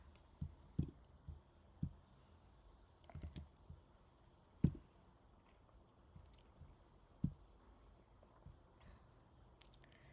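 Faint, sparse keystrokes on a computer keyboard while entering code in Google Colab, irregular soft clicks spread across a quiet room with no voices.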